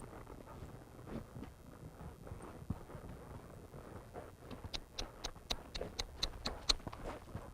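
Horse hooves clip-clop in a steady, evenly spaced rhythm during a western dressage ride, faint at first and then growing crisper and more distinct as the horse comes closer, with no voices over it.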